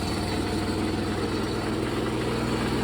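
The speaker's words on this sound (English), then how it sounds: "It's idling high, but it is idling." A John Deere 210 lawn tractor engine idles high after fuel system work, running on two-stroke mix, a steady, even mid-pitched putter with no changes in speed and no talking.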